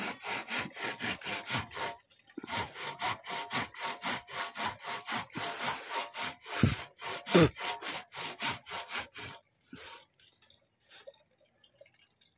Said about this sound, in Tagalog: Lagari. Maliit na sanga lang eh.